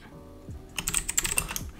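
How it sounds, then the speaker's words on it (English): Keystrokes on a computer keyboard while entering text into PC editing software, a quiet lead-in followed by a quick, irregular run of close clicks and taps with no talking. "So I'm just gonna type in"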